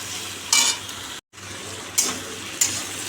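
Whole garlic, ginger and green chillies sizzle in oil in a pot, a constant hiss broken by a few sharp scraping stirs and one brief cut to silence, no speech.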